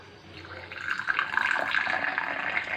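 Herbal kashayam decoction poured through a strainer into a container, a close, trickling liquid pour that swells and continues steadily, with faint background noise.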